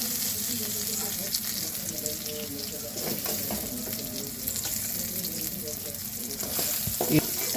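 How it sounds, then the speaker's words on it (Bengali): Constant hissing sizzle of soybean chunks frying in hot oil, moderately quiet and even, with a few faint clinks toward the end. "এবার ওই তেলের মধ্যে আমি সয়াবিনটা দিয়ে দেবো, দিয়ে ভালো করে ভেজে তুলে নেব।"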